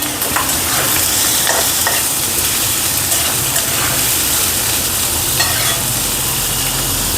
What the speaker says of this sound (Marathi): नंतर आपल्याला लागला तेवढा आपण कांदा घालून घेऊ.